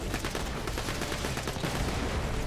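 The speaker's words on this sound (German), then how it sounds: "Der ballert schon auf irgendwas." Rapid gunfire crackles from a shooter in Borderlands 3, a dense run of overlapping shots fired in quick bursts at a moderate level throughout.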